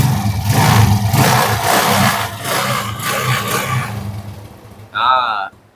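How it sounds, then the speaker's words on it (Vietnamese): A Suzuki Shogun Night Rider motorcycle engine idles smoothly and quietly, a low steady hum running under someone talking throughout. "Nãy giờ mình nổ máy á, chưa chắc mọi người đã biết là mình đang nổ máy luôn."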